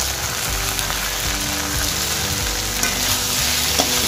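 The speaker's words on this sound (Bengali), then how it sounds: "সবজিগুলো আমার আদা বাটা দিয়ে সব ভাজা ভাজা হয়ে গেছে" Vegetables fry in a pan with ginger paste, turmeric, Kashmiri chilli, cumin and coriander powder, a steady loud sizzle throughout with stirring scrapes and clatters, close and unbroken.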